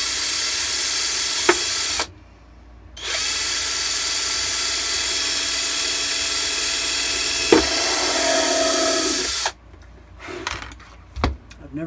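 A power drill bores into an armor part for a Shadow Trooper costume build, with a short whining burst, a brief pause, then a long continuous close drilling run, followed by a few clattering handling knocks.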